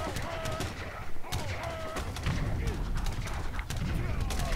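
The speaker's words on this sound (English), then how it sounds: "now that he's got his mortars out, he's shelling this" Mortars shell a base in Age of Empires III, firing in a steady run of sharp booms and impacts over ongoing battle noise, with no talking.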